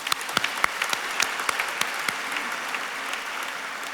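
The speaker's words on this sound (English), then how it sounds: "please join me in the round of applause to thank them" An audience at an Asian American business award dinner applauds event partners and volunteers, a dense wash of clapping with a few sharp, close hand claps standing out at the start, fading slightly toward the end.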